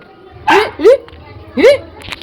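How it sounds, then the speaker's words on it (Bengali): A dog lets out a few short, sharp yelping barks in two quick pairs, close by and fairly loud. "সন্দেশ কি করছে চেঁচাচ্ছে"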